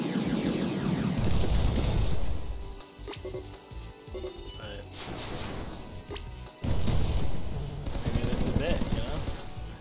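Explosions from targets blown up in the aerial combat video game Sky Rogue, loud crashing booms over constant game noise, with a sharper burst near the end.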